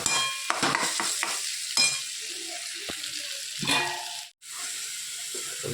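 A methi bhaji and potato curry is stirred in a sizzling pan: repeated scraping spoon strokes rise over a steady frying hiss, close by and alone.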